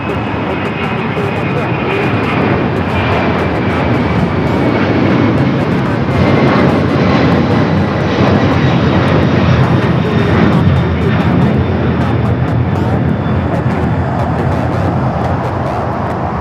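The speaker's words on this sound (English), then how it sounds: "I got that Latam Cargo 767 heading to Seattle, taking off." A Latam Cargo Boeing 767-300 converted freighter takes off at LAX, its jet engines roaring in a loud, steady rumble that swells slightly mid-run with a faint whine on top, while voices talk over it.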